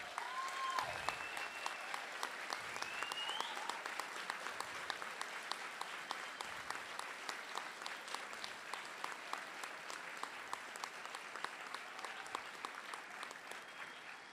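An audience claps at length at a conference event in Tel Aviv, a steady wash of many hands that holds at a fairly even level throughout, with scattered faint voices rising from the crowd.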